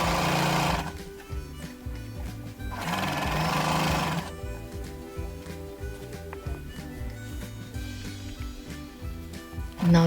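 A sewing machine stitches saree fabric in fast rhythmic bursts, with two louder whirring runs early and a steadier mechanical chatter afterward, close and continuous with no talking.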